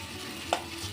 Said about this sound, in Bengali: থেতো রসুনটা, পেঁয়াজ রসুন দুটো একসাথে আমি ভেজে নেব।